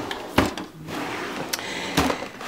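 A makeup storage drawer slides and knocks shut, giving a few sharp close clicks and thuds spaced across a couple of seconds with no speech.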